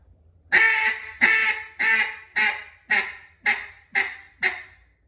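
A duck call is blown in eight loud, close quacks at an even pace, the first ones drawn out and the later ones clipped shorter.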